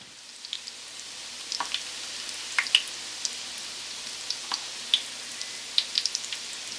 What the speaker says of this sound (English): I have about 1 cup of oil in this pan, which is more than enough for frying these 6